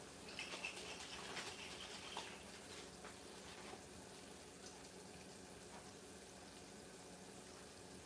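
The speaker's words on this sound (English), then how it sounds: "I'm just going to add a little water so I can grab this" Water pours into a cooking pan while shrimp alfredo is being made, a faint tap-like trickle and splashing at the start that fades into quiet kitchen background with light clinks.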